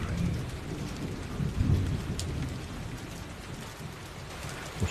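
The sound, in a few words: thunderstorm with rain and thunder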